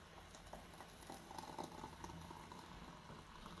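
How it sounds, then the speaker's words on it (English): Brewed berry tea is poured, a soft, continuous liquid trickle and patter that is faint and close, running steadily for a few seconds without talking. "I'm going to go ahead and pour this out"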